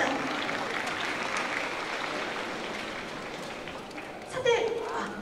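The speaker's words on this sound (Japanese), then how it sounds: "大きな拍手お願いいたします" Applause from an outdoor audience at an air base festival band concert, steady and moderately distant across the whole stretch, with a brief louder burst near the end.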